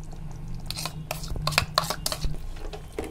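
Yogurt being stirred into a pot of chicken gravy with softened onions, giving close scraping and clinking of a spoon against the pot in irregular strokes, with a steady low hum underneath.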